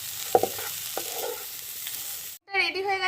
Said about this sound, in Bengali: এবার এটাকে খুব ভালো করে মিশিয়ে নাবিয়ে নিতে হবে